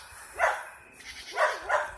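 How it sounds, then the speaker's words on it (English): A neighbor's dog barks at a campground: three moderately loud barks at middle distance, one alone and then a close pair, with faint ambient noise between them. "campground neighbor's dog"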